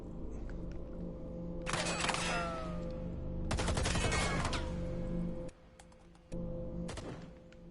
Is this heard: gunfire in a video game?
yes